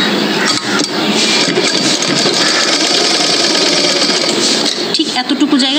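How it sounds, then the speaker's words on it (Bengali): A sewing machine stitches a side seam on a doll's dress, running as a loud, continuous rapid mechanical whir with brief pauses and light clicks, close up and without talk. "এই সাইডটা আমি সেলাই করে নেব।"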